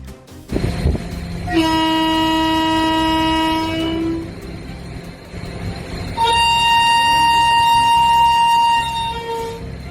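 A train horn sounds loudly in two long blasts separated by a short gap, over the rumble of Miraj railway station in India.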